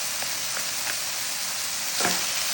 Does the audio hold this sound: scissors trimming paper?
no